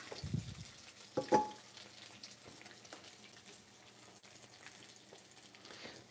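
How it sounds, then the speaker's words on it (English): Carnitas fry quietly in a nonstick pan, with a few scrapes and clatters of a utensil and a faint running-water hiss in the background. "let this sizzle for a minute"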